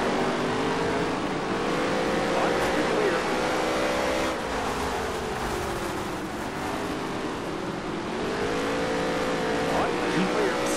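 A NASCAR stock car accelerates in the racing video game NASCAR Heat 3, its engine tone climbing and dipping through gear changes at moderate loudness, with someone speaking over it.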